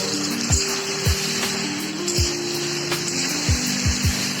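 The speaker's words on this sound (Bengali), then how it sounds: "এবার আমি একবার মিডিয়াম থেকে হাই করে আবার সবজিটাকে ভালো করে নেড়ে দেবো।" Cauliflower and potato sabji sizzles steadily in a hot pan while being stirred, with repeated soft scraping knocks of the spatula at irregular intervals over a continuous frying hiss.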